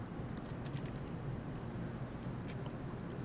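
Keys on a computer keyboard tap in a quick, irregular burst of light clicks, then go quiet before a final tap, all faint against a steady background hiss.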